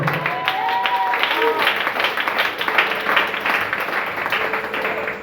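A church congregation applauds and cheers in acclamation of the Lord, with dense, steady clapping and loud voices calling out over it throughout.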